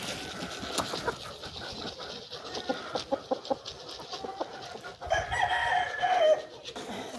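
Chickens and a rooster on a farm scratching through wet hay, with scattered clucks and short calls throughout and a clear rooster crow rising near the end, close and moderately loud over steady outdoor background.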